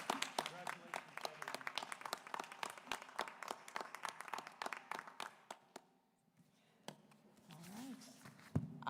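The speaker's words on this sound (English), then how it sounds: "if we can give them one more round of applause as they exit stage left." Applause from a board of education meeting audience for departing volunteers, many hands clapping densely for about six seconds, then fading into a brief quiet and low room murmur.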